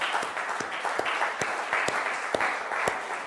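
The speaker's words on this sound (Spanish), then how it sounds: "Démosle un aplauso al Señor" A church congregation applauds during a sermon. The clapping is steady and moderately loud, with a few sharper individual claps standing out from the wash of the crowd.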